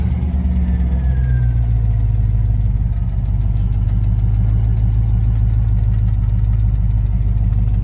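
A classic Range Rover engine catches and settles into a loud, steady idle, its low rumble continuous and close with a slight rhythmic knock running through.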